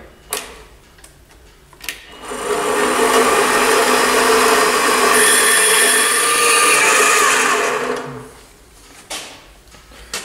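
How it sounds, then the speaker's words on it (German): A power saw cuts off an angle piece for a grill base frame, a loud, steady grinding whine lasting about five seconds, with scattered clicks and handling knocks before and after. "Ich schneide es jetzt einfach mal ab und dann sehen wir schon."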